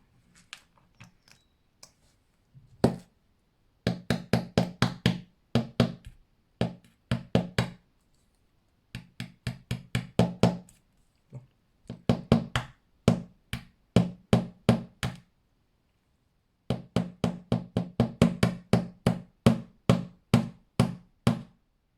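Sharp, rapid tapping knocks as a hole is punched into a seashell for making earrings, coming in dense bursts of regular strikes separated by short pauses, close and fairly loud with no talking.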